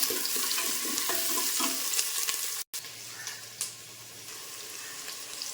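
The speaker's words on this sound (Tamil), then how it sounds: "2 பிரிஞ்சி இலை போட்டு வெங்காயம் போட்டு நல்லா வதக்கலாம்." Onions and a couple of bay leaves sizzling in oil in a cooker, a steady close frying hiss with light stirring scrapes, briefly cut off by a gap before continuing.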